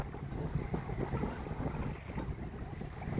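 Steady wind rushing over the microphone aboard a sailboat on a Scottish loch, with water sloshing beneath, loud and continuous throughout.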